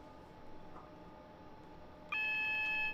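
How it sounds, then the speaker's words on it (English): AWS warning alarm in a train driving simulator on a London to Brighton run, a steady high electronic tone that starts suddenly and holds over a low cab rumble. "There's the AWS again."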